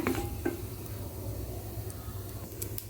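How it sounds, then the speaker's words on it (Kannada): Mustard seeds crackle and pop in hot oil with asafoetida during tempering for a methi curry, a steady close sizzle broken by a few sharp pops. "ಇವಾಗ ಒಗ್ಗರಣೆ ಆಗ್ತಾ ಇದೆ ಸಾಸಿವೆ ಕಾಳೆಲ್ಲ ಚಟಪಟ ಅಂತ ಸೌಂಡ್ ಬರ್ತಾ ಇದೆ"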